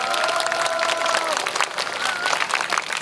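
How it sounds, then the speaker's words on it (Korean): Audience applause at the opening address of the 2017 Turn Toward Busan veterans' festival in Busan. Dense, steady clapping fills the whole stretch at an even loudness, with crowd noise and a faint tonal sound underneath. "박수 한번 칩시다"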